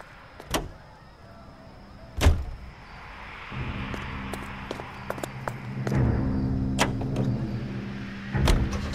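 A car in LA Noire idles and then drives off, its low engine hum swelling and holding steady, punctuated by sharp clicks and thumps like doors or gear shifts, with no talk.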